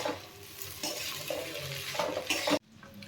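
Maggi masala seasoning going into pasta in a home kitchen pan, with scraping, stirring and light sizzling from a spoon working through the pan, close and continuous, stopping abruptly near the end.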